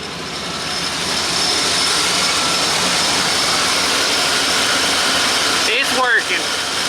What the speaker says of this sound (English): I heard the compressor. It's cold. I think it works.